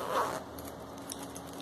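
Someone opens the zipper on a waterproof oral hygiene case, making a quick, close, raspy pull. The rasp fades into soft handling noise and a light clink.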